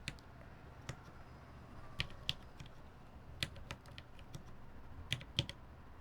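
Quiet, scattered keystrokes click on a computer keyboard during a keyboard-building session, sparse and irregular over a faint background hiss.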